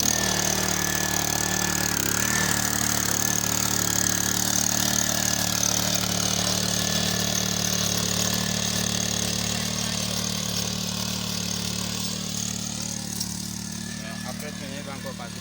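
A petrol-engine walk-behind tiller runs with a steady, close, droning engine hum and a constant tonal whine, fading slightly toward the end.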